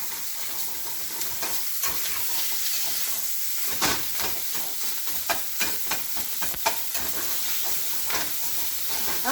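Bacon grease sizzling in a frying pan used for sausage, a continuous close hissing fry with scattered crackles and pops, no voices.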